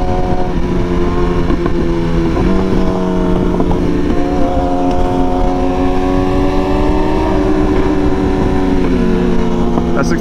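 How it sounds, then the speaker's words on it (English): A 636 sport motorcycle fitted with an M4 exhaust rides along a highway in a group ride, its engine a loud, steady droning growl with rising pitch, heard close with wind rush and voices talking over it. "That 636 sounds good."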